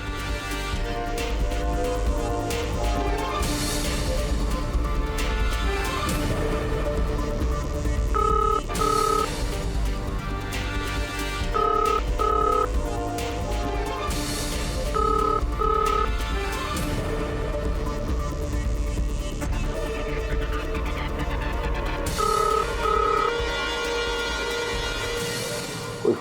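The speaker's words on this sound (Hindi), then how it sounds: "कोई फोन नहीं उठा रहा है।" A telephone rings again and again over a long stretch, with short electronic tones recurring, and nobody picks up.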